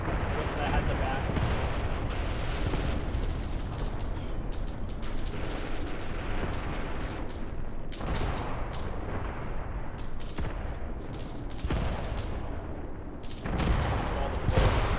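MG42 machine guns fire in the Graviteam Tactics wargame, a continuous roar of rapid bursts mixed with distant artillery booms, dense and unbroken for the whole stretch, with someone talking over it.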